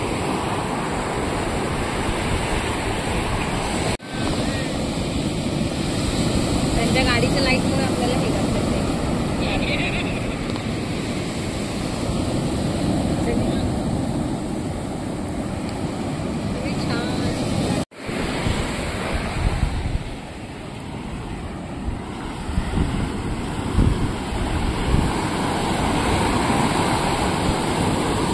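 Sea waves at Chivla beach, Malvan, roar steadily and continuously with wind buffeting the microphone, loud and close throughout, while a person speaks briefly over the surf.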